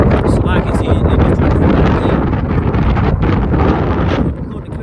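Strong outdoor wind buffets the microphone in loud, continuous rumbling gusts that swell and ease slightly, with a voice faintly audible beneath the roar.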